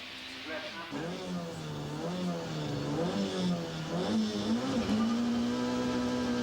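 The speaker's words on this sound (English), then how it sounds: "49-year-old Hannu Mikkola, driving the Mazda, starts special stage 2 of this year's Lombard RAC Rally" The Mazda rally car of 49-year-old Hannu Mikkola revs and accelerates on special stage 2 of the 1991 Lombard RAC Rally at Clumber Park. Its engine note climbs through the gears, moderately close, and a commentator talks over it.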